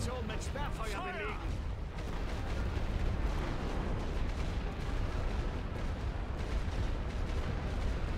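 Artillery barrage in The Great War: Western Front pounding enemy trenches, a continuous dense rumble of distant blasts and booms rolling on without a break, with a voice briefly audible at the start.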